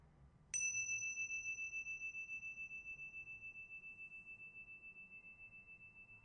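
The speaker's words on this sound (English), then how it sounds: "following the sound of the bell" A meditation bell is struck once and rings with a clear, pure tone that sustains and slowly fades over several seconds in a quiet room, with a gentle pulsing shimmer as it decays.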